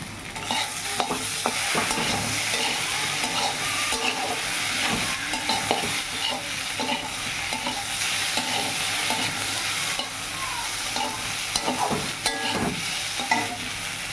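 Onions frying over a medium gas flame while being stirred in a pan for Bengali potol posto, a continuous close sizzle with frequent scraping and clinking of the spatula throughout.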